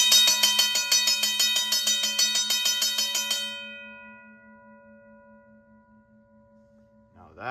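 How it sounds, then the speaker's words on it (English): A restored RACO mechanical bell rings loudly in an open garage, a rapid metallic clatter for about three and a half seconds, then a long ringing decay that fades out alone. "Now that was crazy loud."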